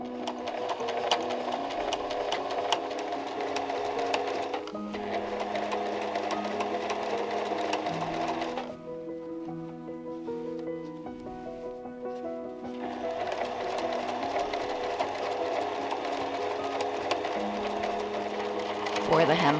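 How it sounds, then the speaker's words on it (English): A domestic sewing machine fitted with a ruffler foot stitches and gathers a cotton hem flounce for an 1872 dress, running in a steady whirring drone with a short pause and changes in speed, under soft background music. "I roll hem the bottom edge and gather the top with my ruffler foot, and machine sew it"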